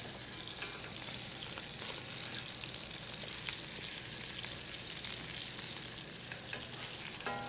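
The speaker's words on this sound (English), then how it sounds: "We're just going to sear them all the way around" Tuna steaks seared in a hot pan make a dense, loud, continuous sizzle and crackle close by, with no talking.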